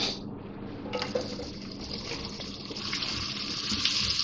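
Onions tipped into half a cup of hot oil in a pan set off a close, loud sizzling hiss that swells after a second and keeps crackling steadily, with no voices.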